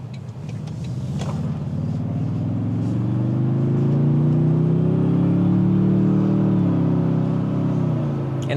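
Deep exhaust rumble from a 2025 Toyota Tundra TRD Pro pickup truck on the move, swelling gently as the engine rises in pitch, then easing off, steady and close.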